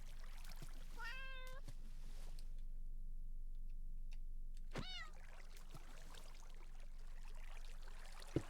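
Cat in the video game Minecraft (Bedrock Edition) meowing twice, two clear rising-falling cries a few seconds apart over a quiet steady in-game background.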